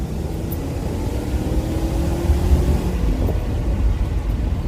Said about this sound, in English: That was a very slow shift